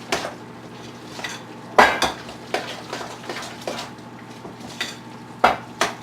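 Vegetable torta mixture stirred in a bowl, a series of sharp clinking and scraping strokes of a utensil against the bowl at irregular intervals, close and clear with quiet gaps between; no talking.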